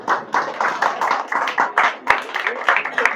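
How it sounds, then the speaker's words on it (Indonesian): A small audience claps in a loose, uneven rhythm at a Maulid Nabi gathering, individual hand claps standing out close and distinct rather than blending into a roar. "Tepuk tangan untuk Mas Pak Ijo"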